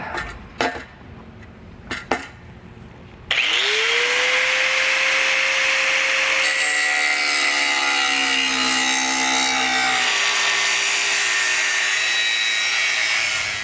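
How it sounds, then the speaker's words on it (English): After a few knocks, an angle grinder with a cutting wheel spins up and cuts metal while installing a tow base plate kit on a 2022 Jeep Wrangler, with a loud, sustained high-pitched whine and screech, close by. "Using a cutting wheel or an angle grinder"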